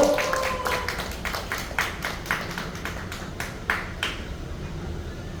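An audience at a Busan car-parade launch rally applauds a professor invited to the front, a thin, sparse patter of claps with scattered sharp individual hand strikes, fairly close, fading after a few seconds.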